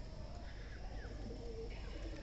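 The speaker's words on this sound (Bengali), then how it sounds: "কবুতরগুলো অসাধারণ ডাকতেছে" Pigeons on a rooftop early on a winter morning, giving soft, faint coos over a constant low background hum.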